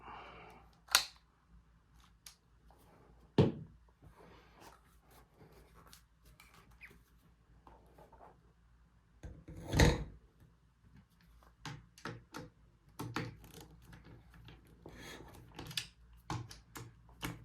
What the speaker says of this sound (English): We're gonna turn the torque setting up to the proper torque for the stock.